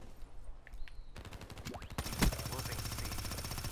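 Rapid gunfire from a recoil-heavy weapon in a shooter video game, a dense burst of shots starting near the middle and continuing steadily to the end over other game sounds, after a quieter opening.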